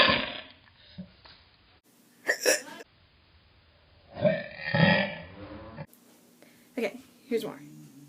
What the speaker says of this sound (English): I'm just gonna sit here and hiccup.